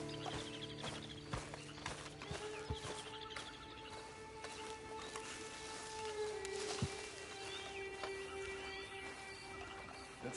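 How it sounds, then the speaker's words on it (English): Horse hooves clip-clop at a walk in a video game, a steady soft rhythm set against game ambience with faint birdsong and music-like tones, no talk. "Then you better get on this horse."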